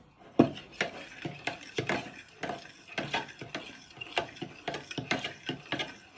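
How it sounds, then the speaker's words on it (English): A fork scraping and clinking in a bowl as plain flour is stirred into a mixture for hot cross buns, with a steady run of short, close, rhythmic taps and scrapes. "Give that a little bit of a stir."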